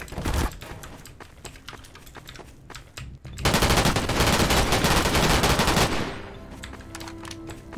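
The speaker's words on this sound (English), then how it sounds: "Someone's shooting down the hall." Gunfire down a hallway in the game Trouble in Terrorist Town: bursts of rapid shots, then a dense sustained volley of automatic fire at middle distance, tapering into quieter scattered sounds at the end.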